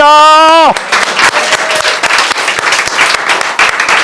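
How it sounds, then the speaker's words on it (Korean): A sustained sung note ends and a church congregation breaks into steady, enthusiastic applause that fills the room during a Sunday morning worship service. "하나님께 영광의 박수를 올려드리겠습니다"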